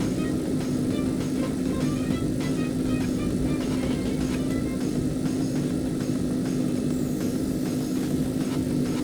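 Steady engine drone of the Quip, a speedometer car fitted with big wheels, running at speed in Roblox A Dusty Trip, with a constant hum and a continuous wash of wind and road noise throughout.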